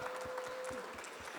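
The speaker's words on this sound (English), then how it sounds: "give her a big round of applause for her first time being on the panel" Steady, faint applause from a conference audience for a first-time panelist at a blockchain event in the UAE, even clapping with a low hum behind it.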